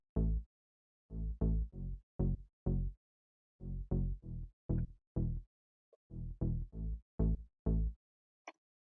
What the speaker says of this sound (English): The pluck bass sounds like this.